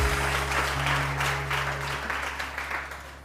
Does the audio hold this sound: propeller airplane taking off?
no